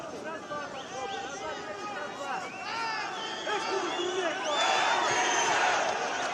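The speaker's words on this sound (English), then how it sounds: "And already the crowd cheering for Koishybek." A fight crowd at an Eagle FC mixed martial arts event roars and cheers in a hall, the noise swelling louder toward the end, with a voice talking over it throughout.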